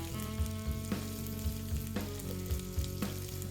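Salmon fillet frying in a pan, a steady close sizzle with soft periodic bumps and scrapes as it is moved and flipped.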